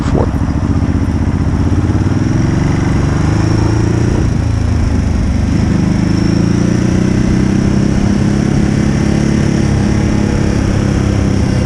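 A Ducati Hypermotard 939 motorcycle is ridden with its engine running loud and steady throughout, a continuous close mid-range drone with small shifts in pitch as the revs rise and fall.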